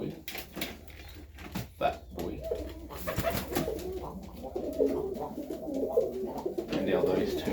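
Serbian Highflyer pigeons coo in a loft during a cleanup, soft repeated calls running under steady conversation, with occasional knocks and rustles.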